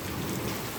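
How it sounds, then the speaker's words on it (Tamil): Light rain falling outdoors, a steady even hiss and patter without breaks, moderately close and with no voices. "லைட்டாக மழை பெஞ்சிட்டு இருக்கு வர. அதனால் இப்போ வெளியே மழை."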